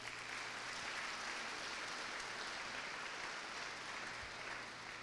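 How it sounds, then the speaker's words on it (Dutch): Sustained applause from a church congregation for the brothers, a dense steady wash of clapping filling the space for several seconds with no talking over it. "geef die broers een applaus."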